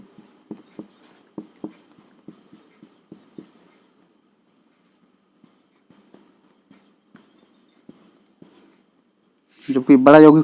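Chalk taps and scratches on a classroom board as a chemistry teacher writes, a string of sharp, close clicks in uneven bursts that thin out into sparse taps, before a voice starts speaking at the end.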